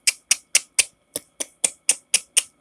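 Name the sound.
person imitating a clicking sound in the throat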